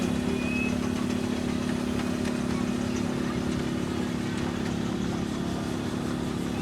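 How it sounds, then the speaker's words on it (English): A Foden steam wagon on cast wheels runs at a vintage steam show, giving a steady, continuous mechanical drone with a low hum that stays even throughout, fairly loud and without spoken voices. "Another one of our Foden wagons now."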